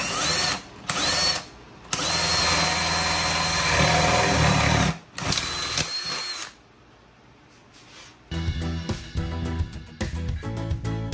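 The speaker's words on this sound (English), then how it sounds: "we're going to have to drill a hole in the wood to be able to get the jigsaw in it" A power drill driving a 7/8 inch spade bit through wood, loud whining bursts in several stretches with short pauses, then a rougher, rattling stretch near the end.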